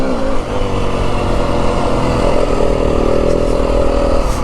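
A 2025 Yamaha WR250F dirt bike rides trails in the Santa Rita Mountains of southern Arizona, its engine droning loud and close with steady throttle and small shifts in pitch.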